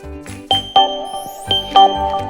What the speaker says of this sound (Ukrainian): На мій гаджет прийшло повідомлення.